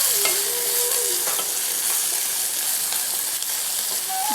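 Chopped green chili and ginger sizzle steadily in hot oil in a pan after a five-spice tempering, with a few soft stirring scrapes and clicks over the continuous frying hiss.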